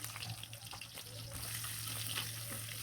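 Chopped onions frying in hot oil give a faint, steady sizzle with light crackles, heard quietly and close up with no talk over it.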